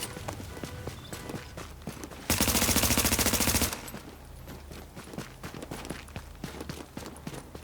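Automatic weapon fire from a crit-focused hybrid Predator build in The Division, a loud sustained burst of rapid shots lasting over a second, framed by scattered single shots and clatter in a busy game soundscape.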